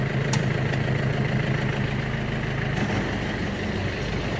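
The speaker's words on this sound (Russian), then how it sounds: "Фреза работает, никаких посторонних звуков нету" A Mitsubishi MT24D tractor runs with its PTO-driven rotary tiller engaged, a steady close diesel drone with a continuous mechanical whir and no speech.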